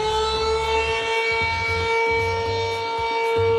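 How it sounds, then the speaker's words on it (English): An outdoor warning siren holds a steady, loud wailing tone with a faint pulsing flutter underneath, heard alone with no talk. "Siren got the jitters."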